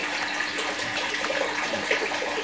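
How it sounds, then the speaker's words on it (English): A garden hose runs fresh water into a large aquarium tank during a water change, producing a steady, close rushing and splashing hiss that holds constant throughout with no voices. "I actually put the hose in here to fill it up"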